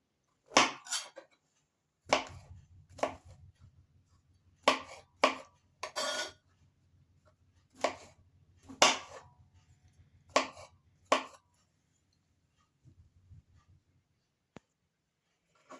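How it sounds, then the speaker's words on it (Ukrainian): Mushrooms for soup are cut into thin flakes on a board, giving a series of crisp knife taps in irregular bursts, close and clear, with a low hum underneath for part of the time and silence toward the end. "Нарізаємо такими скипками, тобто пластівці такі, вони ж варяться ще наші грибочки."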